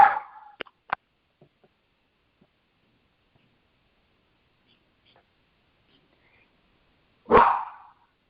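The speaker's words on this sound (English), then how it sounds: "my dogs are going nuts" A dog gives a short bark at the start, followed by a few faint clicks and near silence, then one more loud, close bark several seconds later.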